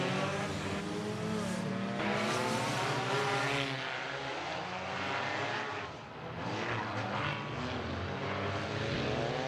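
Race cars roar around Midvale Speedway in a flagpole race, multiple engines overlapping in a loud, continuous wall of revving that rises and falls as the pack passes, with a brief dip midway.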